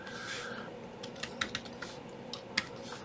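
Sign-up details are entered on a computer keyboard in a short run of irregular, close key clicks over a quiet background, with no talking.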